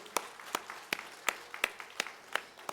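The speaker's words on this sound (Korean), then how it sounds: "우리 박수로 영광을 올려드리겠습니다" A church congregation at a Sunday worship service claps together in a steady rhythm, about eight evenly spaced beats, moderately loud in the room.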